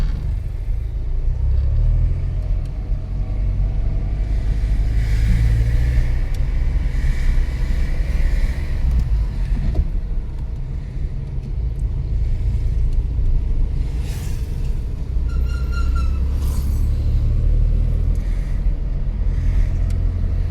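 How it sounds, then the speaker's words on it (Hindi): A car engine grinds steadily under load while climbing a hill road, a deep continuous rumble with the throttle held open and occasional swells of revving, close and loud throughout with no talk. "गाड़ी को पावर भी चाहिए साथ में, रेस देनी पड़ेगी, एक्सीलेटर देना पड़ेगा"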